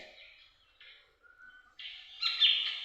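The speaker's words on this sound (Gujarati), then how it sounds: "કાળી કોશીનો અવાજ" Black drongo calling at a bird sanctuary in Jamnagar, a few short metallic call phrases at moderate volume, with the loudest, harshest notes near the end.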